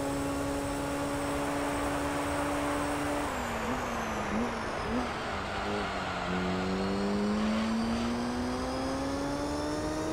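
Corvette C5 race car engine in Gran Turismo 3: a steady, loud, high-revving drone whose pitch drops mid-run, then settles and climbs slowly.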